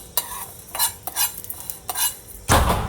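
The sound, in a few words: dry roasting whole spices, coriander and fennel, in pan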